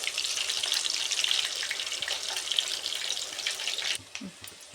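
Chicken pieces sizzle steadily in hot oil in a pan for chicken pakoda, a dense, even frying hiss that drops off sharply near the end, with a few light stirring clinks.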